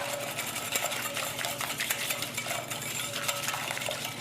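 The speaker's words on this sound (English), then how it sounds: "And I'll give this a nice little whisk." A whisk beats a cream and milk mixture in a bowl for Dutch baby pancake batter, making quick, steady metallic ticking and swishing strokes at moderate volume, with no voices.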